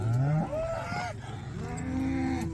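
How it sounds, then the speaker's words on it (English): Cattle and a calf on the Hashknife Ranch during a branding, lowing in two drawn-out moos, one at the start and a second deeper, longer call near the end, close and clear over faint outdoor background. "that's my cow, or my calf right there"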